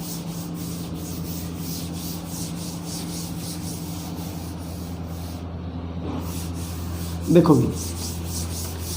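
A board being rubbed clean after a physics lecture example, a steady soft scrubbing that runs throughout, ending in a brief louder knock, with someone speaking briefly.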